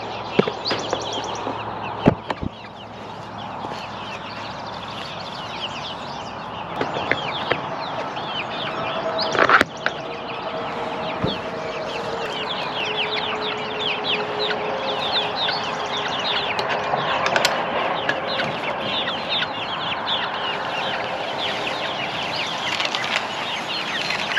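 A busy flock of egg-laying hens close by clucks and squawks continuously, with occasional wing flaps and scuffling and no talking.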